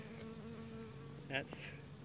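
Honeybees buzz steadily during a hive inspection, a close, continuous drone with brief louder passes as individual bees fly near, while a faint voice speaks in the background.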